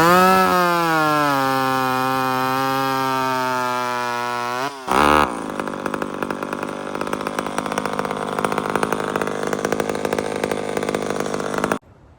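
A chainsaw with a hand-filed square-ground chain bucks hardwood, first revving high and steady, then dropping briefly before settling into a loaded, rough cutting drone that ends abruptly as the cut finishes.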